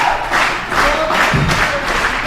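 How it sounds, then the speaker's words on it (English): A wrestling event crowd at an Army National Guard armory roars in swelling waves of cheers and shouts, loud and continuous with some thuds. "they can't over all the noise from this crowd"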